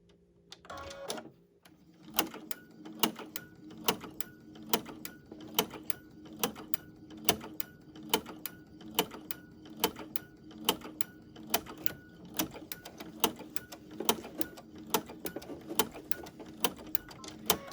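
A sewing machine runs through a ruffle stitch pattern on a kitchen towel for an embroidery project, its mechanism clicking and whirring in a steady rhythmic beat of regular gear and pawl ticks, close and alone with no talk.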